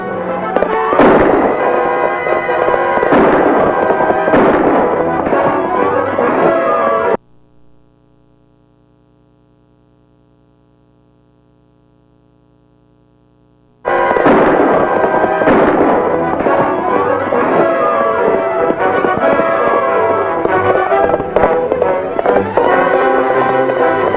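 Rapid gunfire from old firearms in a 1940s film scene, a loud dense clatter of overlapping shots that cuts to near silence for several seconds, then resumes just as intensely and continuously.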